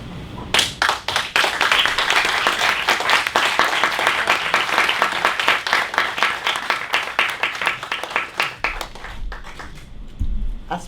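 Seminar audience at a closing panel claps in a lively round of applause that rises quickly, holds steady, then breaks into scattered individual claps as it fades, with a low thump near the end.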